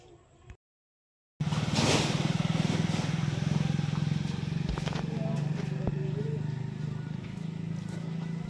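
A truck stands in floodwater at a farm while feed is unloaded. Its engine idles with a steady, loud, droning hum after a brief silent gap, and faint clatter and thuds sit on top.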